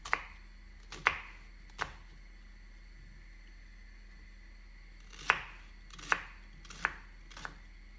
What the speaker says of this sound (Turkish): İnce ince kıyıyoruz soğanlarımızı.